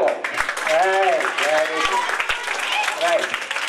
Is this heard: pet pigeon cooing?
no